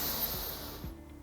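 A single deep breath drawn in through the nose during a face yoga exercise: a brief, close, airy inhale heard alone.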